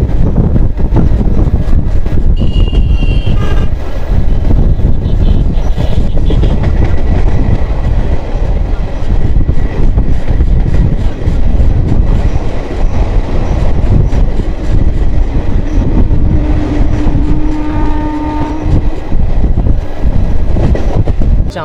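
The 18044 Bagha Jatin Express on the Bhadrak–Howrah line runs through Phuleswar station with a loud, steady rumble and clatter of wheels that stays heavy throughout, with a few brief tonal squeals or hoots along the way.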